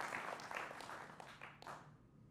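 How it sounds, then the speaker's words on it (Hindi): Applause welcoming a guest on a televised Hindi political debate about the parliamentary winter session, heard as faint, distant clapping that thins and fades away at the end. "जोरदार तालियों के साथ स्वागत है।"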